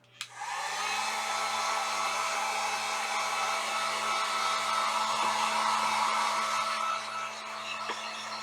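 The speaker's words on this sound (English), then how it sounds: "So I am going to go ahead and use my heat gun. I want to go ahead and dry this" Heat gun drying a home decor craft piece, a steady loud blowing whoosh with a motor whine that starts with a click and runs continuously for about eight seconds, no voices.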